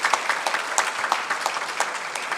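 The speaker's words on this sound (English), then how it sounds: "I want you to give her a round of applause, a round of encouragement" Audience applause at a leadership conference, brief dense clapping from a crowd in a hall with a few sharper claps standing out.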